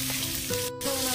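Onions and green chillies sizzle steadily in hot oil during egg, potato and tomato curry cooking, a close, continuous frying hiss with a short dip partway through.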